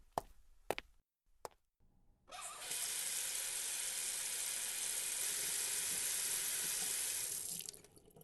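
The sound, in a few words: water running in a sink while washing face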